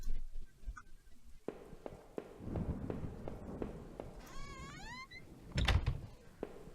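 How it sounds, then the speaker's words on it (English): A single loud, drawn-out meow from a cat in the video game Home rises over soft thumps and footstep-like knocks, followed by a heavier thud. "This was a fucking loud-ass cat."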